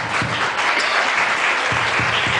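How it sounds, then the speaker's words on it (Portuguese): A church congregation claps together, a steady, dense wash of applause from many hands filling the room at full volume, with no speech over it. "Aplauda ao Senhor Jesus."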